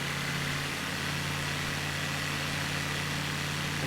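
An aircraft engine idles in the Flight Simulator 2020 video game, a steady, even drone that holds at one level throughout with no change in pitch or rhythm.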